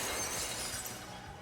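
A magical barrier shatters like glass in a visual novel, a single bright, crashing burst that rings out and decays over about a second.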